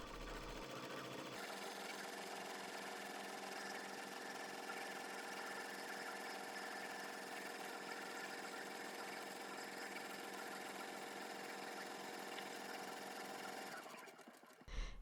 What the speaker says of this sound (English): Place your hoop back on your machine and stitch the last step of the design.